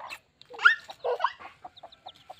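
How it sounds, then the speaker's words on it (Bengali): Chickens and young chicks cluck and call on a hillside village farm, a few louder clucks near the start and then short, soft peeping notes in a broken rhythm against otherwise quiet surroundings. "মুরগি ডাকছে"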